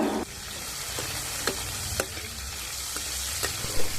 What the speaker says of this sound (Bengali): কড়াইটা গরম হওয়ার পর দিয়ে দিয়েছি এক চামচ মতো গোটা জিরে এরপর দু তিনটে ছোট ছোট কাঁচা লঙ্কা এইভাবে টুকরো করে দিয়ে দিলাম